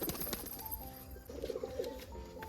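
Pigeons coo softly in a low, rolling murmur, with a few wing flutters and faint chirps over a steady background.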